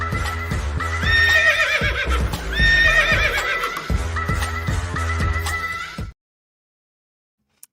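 A horse neighing sound effect: a loud, close whinny with shrill rising and falling calls over clip-clop hoofbeats, lasting about six seconds before cutting abruptly to silence.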